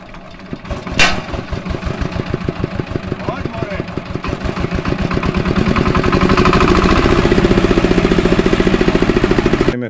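Small engine of a DANXIA 4L-0.5 mini combine harvester catches after a sharp start and settles into a loud, close, rapid thumping that grows steadily heavier, with people talking nearby.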